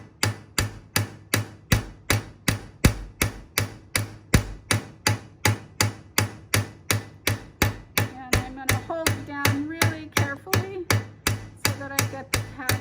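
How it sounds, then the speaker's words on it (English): Steady, evenly spaced strikes of a steel claw hammer on metal for texturing, about two per second, loud and close, with a faint higher ringing tone creeping in near the end. "I'm going to use the steel claw hammer on it"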